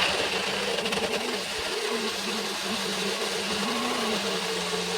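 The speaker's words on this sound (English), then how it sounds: "get all of that whirring away in the blender for a minute" A kitchen blender whirs steadily for a minute, blending an olive oil mixture, a continuous close motor drone with a slight wavering pitch and no talking.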